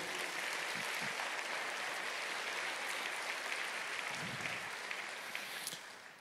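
A church congregation claps together in steady, dense applause that fills the hall, the sound of many hands holding level before easing off at the end.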